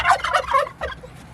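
Turkeys on a poultry farm gobble in a rapid burst of several loud, close calls, then one shorter call after a brief pause, with no talking.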